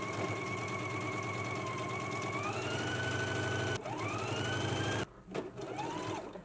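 A home sewing machine stitches a 5/8-inch seam on a skirt, its motor whirring steadily with a shifting pitch as the speed changes. It stops abruptly near the end, then gives a few short bursts.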